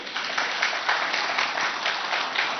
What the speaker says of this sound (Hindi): पहले एक बार तालियां बजा दीजिए।